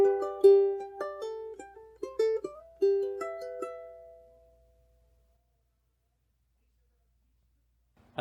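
Fingerpicked ukulele plays the first bar of the bluegrass tune Shady Grove slowly, a run of single plucked notes and short overlapping phrases that ring out and fade to silence, with no voice.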